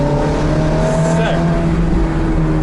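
A Ferrari F430 drives along a damp village road, its engine a steady, loud drone with a brief rising note midway, heard from inside or close to the car throughout.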